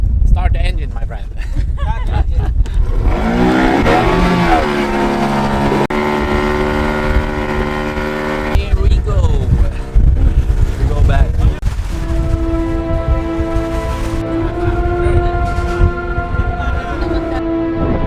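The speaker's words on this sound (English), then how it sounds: "Now we have to start the engine." Outboard boat engine on a Zanzibar boat near Nakupenda, Tanzania, cranks and sputters, then settles into a steady motor drone, loud and close, with wind buffeting the microphone and bursts of talk throughout.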